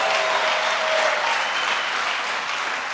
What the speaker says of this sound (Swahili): Pigia Bwana Yesu makofi ya amani.